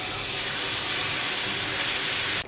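Milk poured into hot roux cooking in a pan gives a steady, loud steamy hiss that holds evenly, then cuts off abruptly near the end, with no voices.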